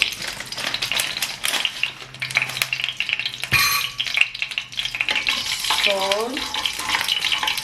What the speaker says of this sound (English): you let the mustard seed pop out.